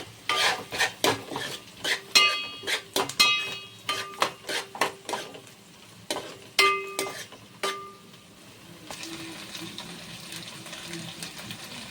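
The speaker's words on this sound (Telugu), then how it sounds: "పలావ్ సరుకులు వేసుకుందామండి. కొంచెం రోస్ట్ అవుతాయి ఉల్లిపాయలు" Onions and pulao spices fry in a pan in a home kitchen. A spoon scrapes and clinks against the metal in bursts, then a soft, steady sizzle takes over.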